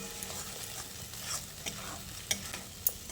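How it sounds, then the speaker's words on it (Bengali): Ridge gourd sautéing with cashew and poppy seed paste in a pan over a medium flame, a quiet steady sizzle broken by a few sharp spatula scrapes and taps, close by and without speech. "বাটা মশলাটা দিয়ে ঝিঙের সঙ্গে আবারও খুব ভালো করে কষিয়ে নিতে হবে"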